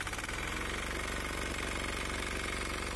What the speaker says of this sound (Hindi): ट्रैक्टर स्टार्ट हो गया है